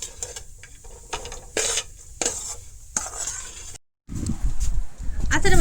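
Jackfruit seed laddu mixture with cashews being stirred in a pan, giving repeated scraping and clinking strokes against the pan, with a short gap near the end before louder, denser stirring.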